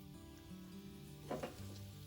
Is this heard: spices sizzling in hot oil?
yes